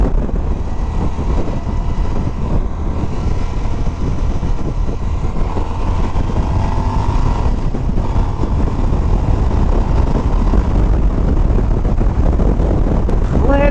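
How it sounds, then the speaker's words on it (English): A cruiser motorcycle engine drones steadily throughout a ride, its low rumble mixed with heavy wind buffeting the microphone at a constant, loud level. "Plenty of torque on this motorcycle."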